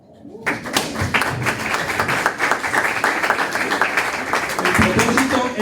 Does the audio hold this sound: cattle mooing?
no